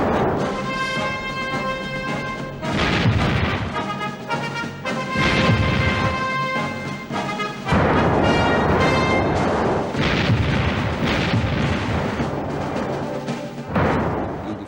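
Naval artillery at the Battle of Jutland, heavy German and British warship guns firing: repeated deep booms and rumbling blasts over a dramatic orchestral music bed, loud and continuous.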